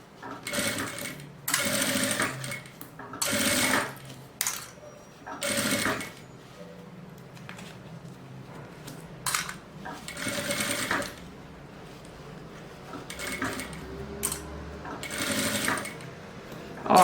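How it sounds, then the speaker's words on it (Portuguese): A sewing machine stitches all the way around a fabric pouch for a cosmetic bag, with close-up bursts of rapid motor-driven stitching broken by short pauses and a few soft handling sounds. "E vou costurando, costurando, até costurar a volta inteira."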